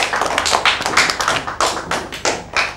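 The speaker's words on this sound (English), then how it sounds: "Clap your hands." Young Year 1 pupils clap their hands together in a primary maths classroom, producing a series of sharp, loud, close claps in uneven bursts of roughly a dozen strikes, with no talking over them.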